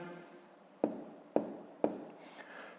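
A pen writes numbers by hand in a quiet room, making three crisp taps spaced about half a second apart between soft scratching strokes.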